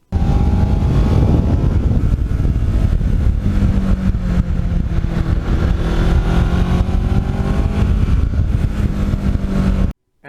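A Kawasaki Ninja motorcycle engine at full throttle, a loud, sustained high-revving roar with rising and falling pitch sweeps that runs steadily for about ten seconds and then cuts off abruptly.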